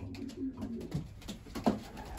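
Racing pigeons in a loft give soft, low cooing calls, a few scattered coos at close range over faint background rustle.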